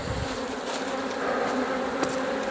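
Honeybees buzz around hive frames after a swarm, a dense, steady droning hum that stays close and fairly quiet, with no voices.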